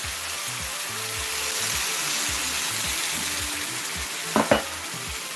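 Lamb meat browning in a pot for a one-pot stew, with a steady broad sizzle throughout and a couple of sharper stirring knocks near the end, close and fairly loud, no talk.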